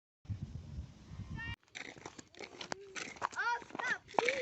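Goats bleat on a farm, several wavering cries rising and falling near the end amid rustling and clatter, while people talk close by.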